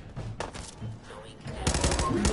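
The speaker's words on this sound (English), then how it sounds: "How about I use this fucking minigun?" Rapid automatic gunfire from a minigun in a PS4 video game, dense bursts that swell louder toward the end, mixed with game noise.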